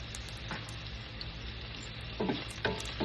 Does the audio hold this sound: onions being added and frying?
yes